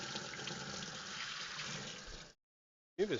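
Water rinsing out a tank: a steady hissing spray runs for about two seconds, cuts out abruptly, then a brief splashy gush returns at the end.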